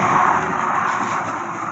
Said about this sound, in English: cars go down that like as if they think they're in a race